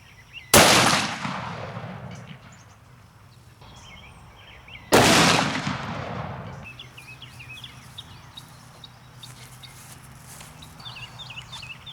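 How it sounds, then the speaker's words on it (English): Two loud, sharp gunshots from a Smith & Wesson 460 Magnum firing 300-grain hollow points into a ballistics gel block, several seconds apart, each with a long decaying echo outdoors and faint birds in between. "we're going to start out with the Smith & Wesson 460 Magnum 300 grain hollow point."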